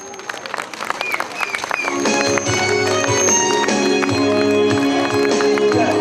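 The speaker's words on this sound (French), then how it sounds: "Tout le public pour les applaudir très très fort" A crowd at a cycling stage podium ceremony applauds the winners, scattered clapping building into a steady din as loud tonal music with sustained chords rises over it, with voices mixed in.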